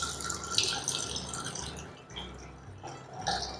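Water is poured into a pot for a tomato cauliflower soup, giving a steady splashing, trickling pour of moderate loudness with small surges. No speech sits over it.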